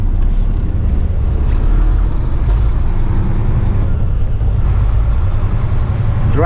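A heavy haul diesel truck drives along the road, its engine rumble and road noise loud and steady throughout, with a few short hisses that could be air brakes.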